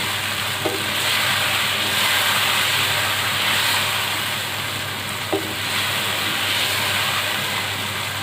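Tomato paste with red chili powder and crushed red chili cooking in a pan for Balochi chicken, with a steady close sizzle and bubbling, plus a couple of brief clinks.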